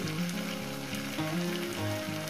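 Ghee sizzling with masala in a frying pan, a steady soft crackle and hiss beneath faint tonal kitchen noise, with no talk.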